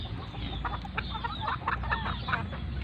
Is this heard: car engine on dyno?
no